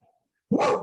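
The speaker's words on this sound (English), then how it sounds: "We've got dogs next door." A dog from next door gives a single loud, close bark after a brief quiet moment.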